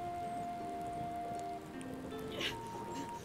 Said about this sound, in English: But then the rain gets heavier.